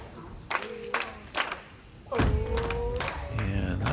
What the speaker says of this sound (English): Round of applause, some clapping in time for, once again, a 5-pin shot for Charlie